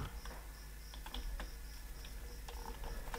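Computer keyboard typing during a JavaScript coding session, with a steady run of light key clicks throughout, fairly close and alone without talk.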